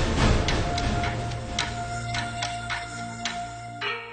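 A phone rings with a repeating electronic tone in rhythmic pulses over a steady hum, loud and close, with no talk over it.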